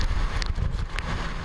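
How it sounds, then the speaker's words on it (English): Strong winds of Super Typhoon Haiyan roar and buffet the microphone in rough, continuous gusts, with crackling bursts mixed into the noise. "The terror of Super Typhoon Haiyan began with its winds."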